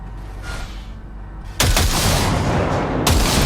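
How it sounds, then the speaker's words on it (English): In Cyberpunk 2077, a gun fires short bursts into a junk pile: after a quieter rumbling lead-in, a loud, dense crackle of rapid shots breaks out, with a second burst hitting near the end. "See that pile of junk? Fire a short burst into it."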